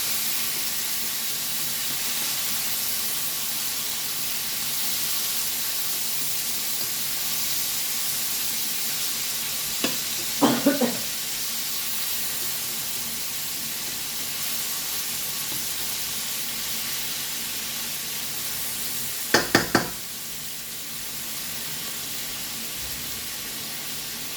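Sliced pork bacon fries in a pan with a steady, loud sizzle and hiss that lasts throughout. A couple of brief clinks of a utensil sound against the pan.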